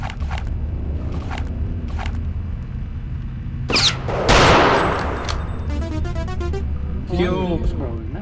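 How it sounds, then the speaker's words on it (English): Video-game gunfire bursts from an elevated position, loud and close: a sharp crack, a dense roaring volley, then rapid rattling shots, over steady game background noise. "someone's firing from up above"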